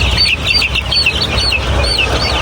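Fifteen-day-old Andijan black chicks chirp in rapid, high-pitched peeps, several birds close by calling repeatedly in a busy, continuous chorus.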